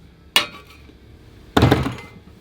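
A metal piston pin resting on a scale is tapped twice, giving two short, sharp metallic clinks about a second apart in an otherwise quiet room.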